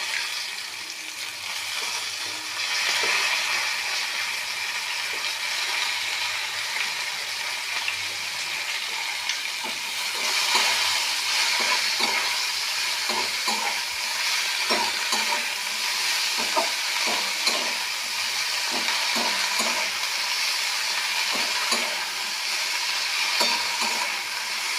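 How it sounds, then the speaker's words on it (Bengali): Leafy greens sizzle and fry in a pan alongside potatoes for a chorchori with morala fish, with a steady broadband hiss and repeated scraping stirs of a spatula throughout, close and loud, no talking. "শাকটা ভাজা ভাজা হয়ে গেছে।"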